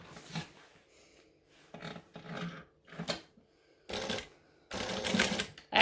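A sewing machine stitches down a fabric bag piece in several short bursts of rapid mechanical clatter separated by pauses, close and fairly loud, with the last runs longer.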